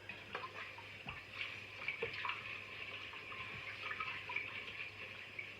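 Water splashes and trickles while a water distiller's filter is rinsed and scrubbed, soft uneven patters and drips at moderate distance, fairly faint and continuous.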